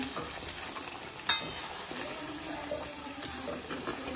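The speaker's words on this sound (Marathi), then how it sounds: "मसाला फ्राय करायला टाकला आहे आता" Masala of garlic, ginger, onion and tomato with whole spices frying in oil: a soft, steady sizzle with occasional stirring scrapes and a small clink, heard up close in a home kitchen.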